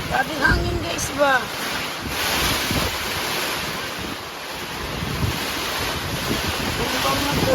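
Strong wind and rain during a sudden storm at an outdoor market day, a loud roaring gust buffeting the microphone with continuous rushing noise, while voices are briefly heard early on.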